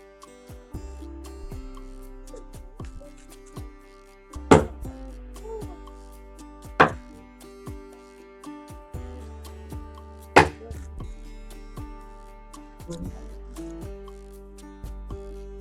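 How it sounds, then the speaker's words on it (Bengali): Knife chopping onions on a board for a home-cooked mutton meal, a run of quick light taps with a few louder sharp knocks at intervals, close and clear, alone without talk. "এরপর আমি পেঁয়াজগুলো কেটে নেব"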